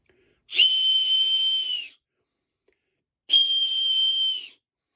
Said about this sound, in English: now we're going to do the quick test for the whistle